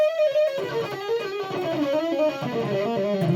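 An electric guitar plays a smooth legato lick that glides around the fretboard, notes flowing into one another in a fast, connected run with light distortion, heard alone at moderate level.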